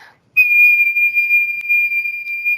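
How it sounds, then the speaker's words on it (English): A person whistles one long, steady, piercing note, close to the microphone, holding it unbroken for over two seconds. "you're going to get really annoyed with my whistling"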